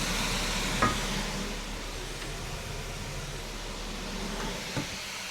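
Food stirred in a hot pan for san choy bao, a steady hissing sizzle with a couple of soft knocks from the utensil, close and continuous.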